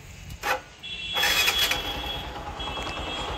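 A Bajaj Platina 110 H Gear motorcycle with about 17,000 km on it: a brief mechanical click, then the engine cranks and catches into a steady idle with a thin whine, close by and without talk.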